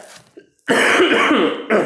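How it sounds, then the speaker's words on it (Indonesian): A single harsh cough from a person with flu bursts out after a brief quiet, a thick, broadband rasp lasting about a second, followed by a short second hack at the end. "masih batuk nih karena masih agak flu kan"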